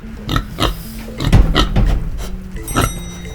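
Pink pigs oink and grunt in a run of short, loud bursts, several snorts in quick succession with a rougher, sustained stretch in the middle, close up and alone with no talking.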